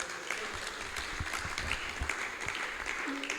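Audience applause at a temple gathering on the last night of the Kartik festival, a steady patter of many hands clapping at moderate volume for a few seconds.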